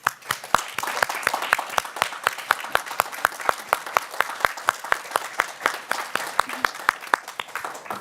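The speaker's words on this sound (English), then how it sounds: "I think we all could give a big round of applause to Officer Halverson" An audience at a school board meeting gives a steady round of clapping, many distinct sharp claps in a brisk rhythm for several seconds, fairly close and with no voices on top.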